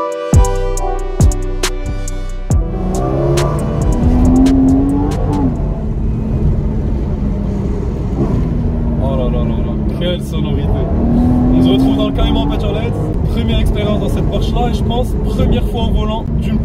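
A Porsche Cayman 981 with a naturally aspirated engine drives along, its engine droning loud and steady inside the car with a couple of rising pulls, after a brief musical intro, under a voice speaking French.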